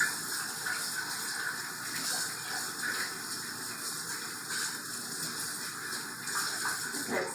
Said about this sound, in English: just going to put enough water in it to cook a few of the egg noodles